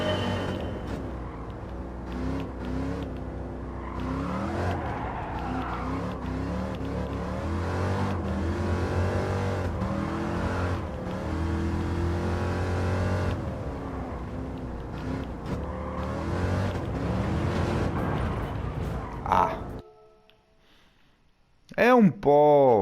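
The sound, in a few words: Corvette engine racing in video game Gran Turismo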